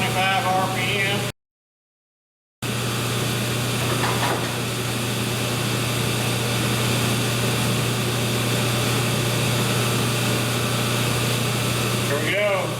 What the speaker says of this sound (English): Lathe is on 425 RPM.